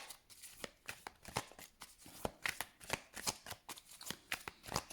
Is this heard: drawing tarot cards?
yes